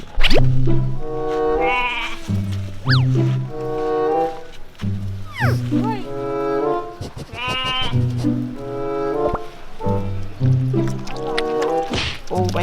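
Sheep bleat repeatedly while being bottle-fed milk at an alpaca farm, a string of loud, close, quavering calls with brief pauses between them and some knocking and handling noise.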